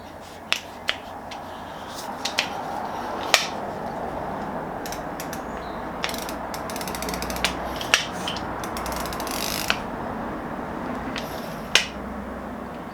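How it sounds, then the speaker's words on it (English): Ratchet on a vintage screw-pulling tool, giving a series of sharp isolated clicks spread irregularly over a low steady background, close and distinct. "pull it back on this ratchet here"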